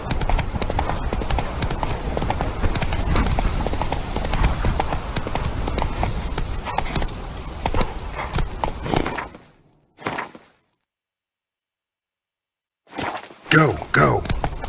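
The horse Roach gallops in The Witcher 3, with rapid rhythmic hoofbeats pounding loudly and steadily for most of the stretch, then a brief silence before more clatter and game effects; a voice speaks briefly.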